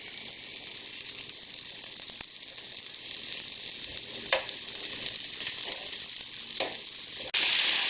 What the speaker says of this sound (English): we're not going to cook this beef all the way through. We just want to get it nice and brown on